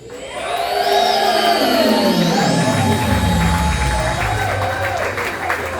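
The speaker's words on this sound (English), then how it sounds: "How about another round of applause for BJ, ladies and gentlemen?" Applause fills a live stand-up comedy venue as the audience claps loudly and continuously, with some cheering. A rising and falling whine runs over the clapping, and a voice is audible in the background.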